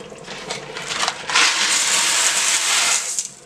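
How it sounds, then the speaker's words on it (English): Dry macaroni poured into a pot of American-style beef goulash, a dense rushing rattle that swells loudly after a second and holds steady before tapering off, with no talking. "we're going to go ahead and pour our macaroni in there"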